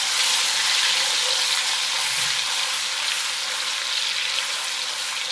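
Cinnamon, bay leaf, ginger-garlic powder and masala fry in a pan for korma kabab, giving a steady, loud, hissing sizzle that fills the whole clip without talking.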